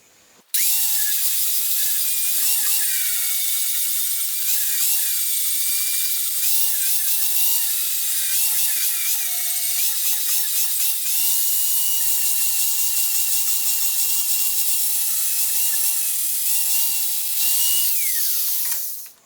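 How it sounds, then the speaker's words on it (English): An angle grinder with a flat disc grinds metal off a hammer head in a continuous, loud, high-pitched whine that shifts in pitch as pressure changes, running nearly twenty seconds before spinning down, with no talk. "just using the flat disc on the grinder, just keep removing material until it's down to the edge of this bevel on the inside"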